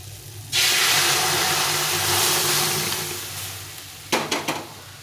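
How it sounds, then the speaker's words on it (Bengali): Boiled dal poured into a hot frying pan bursts into a loud, sudden sizzle that slowly settles into a softer steady hiss, followed by a few quick clatters of stirring near the end, with no one talking. "এখন আমি এর মধ্যে ডালটা দিয়ে দেবো।"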